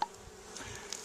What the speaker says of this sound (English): Lots of bees coming and going, pollen on their legs.